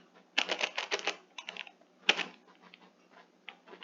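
Keys clatter on a computer keyboard while a random code is entered into bank details in Tally Prime accounting software, a fast burst of typing, a pause, a single sharp stroke, then lighter scattered keystrokes.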